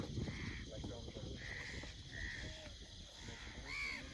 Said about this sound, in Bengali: পাখির কলকল শব্দ